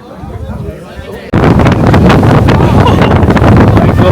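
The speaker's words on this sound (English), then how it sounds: "It's blowing up the snow all over my face." Strong wind at snowy Jungfraujoch roars and buffets the microphone, jumping from a moderate gust to a loud, sustained blast that drives snow about, with a voice speaking faintly beneath at the start.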